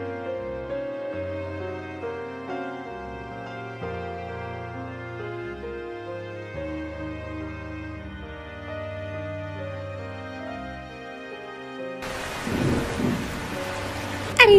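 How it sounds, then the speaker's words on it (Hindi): Rain pours steadily while thunder rolls and rumbles low beneath it, ending in a louder, harsher crack of thunder. No one speaks. "अरे रे, ये तो बारिश होने लगी।"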